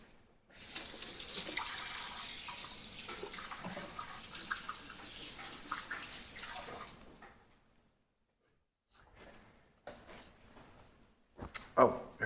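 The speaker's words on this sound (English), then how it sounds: "Now we're going to wash our hands." Tap water runs steadily into a kitchen sink for several seconds while hands are washed, then the flow cuts off, leaving a few faint splashes and clatters nearby.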